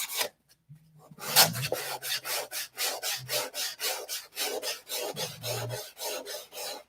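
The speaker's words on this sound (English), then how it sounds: "Then we're going to sand in the opposite direction." Repeated back-and-forth strokes of 180 grit sandpaper rasping across wood on a hand plane project, steady rhythmic scrubbing close up with a brief pause near the start.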